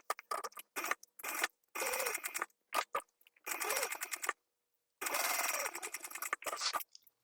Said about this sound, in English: I'm going to top stitch along the top portion.